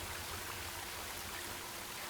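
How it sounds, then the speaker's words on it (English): Flowing river water in a video game, a steady faint rushing wash with no break, heard on its own. "And I hear the water."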